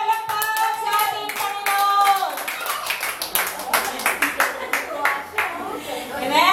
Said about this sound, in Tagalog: Malakas na palakpak sa ating